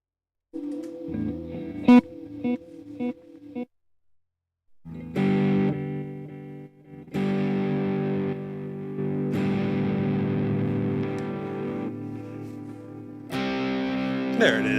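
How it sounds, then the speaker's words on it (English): Distorted, crunchy electric instrument tones ring out through an effects unit, first as short choppy stabs, then as long sustained chords that follow one another closely, loud and alone with no talk. "I need some distortion action."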